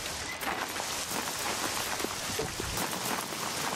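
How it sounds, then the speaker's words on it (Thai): Steady rain falls in the survival game SCUM, a soft continuous hiss of drops with no voices, holding an even level throughout. "ฝนตก"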